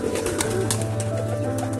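Pigeons kept in a loft, including Sirazi-breed birds, coo in low repeated tones throughout, steady and close, with soft rustling and no talk over them.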